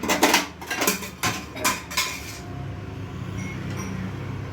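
A metal pan is set down on a home kitchen stove with a series of clanks and rattles of pots and utensils over the first two seconds, then a quieter steady background hum.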